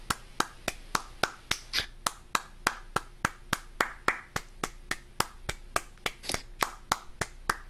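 Rapid, even hand clapping for a clapping game, roughly three sharp claps per second sustained throughout, close and crisp with no talking.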